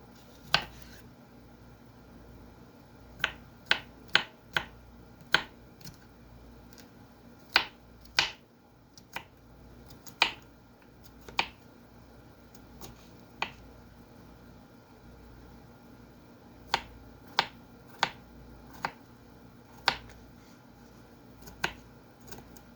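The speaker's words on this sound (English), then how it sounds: "A couple of cuts here, and that's good." Sharp, isolated knife cuts through cucumber ends on a board for pickle relish, about two dozen crisp clicks in irregular clusters over a quiet background hum.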